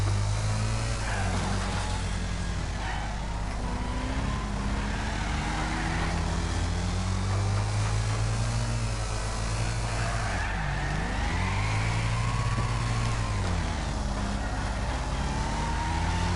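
V8 Hotstox race cars racing on a track, engines roaring steadily at high revs with shifting pitch and occasional tire squeal, loud and close the whole time.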